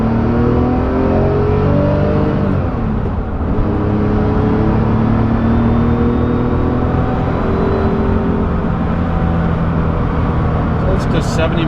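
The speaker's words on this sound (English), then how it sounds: "we're just going to do sort of a rolling start here and go through the gears" A 1970 Porsche 911E accelerates from a rolling start up through the gears, its engine note sweeping upward in a loud, steady drone with rising harmonics that reset briefly at a shift around the three-second mark.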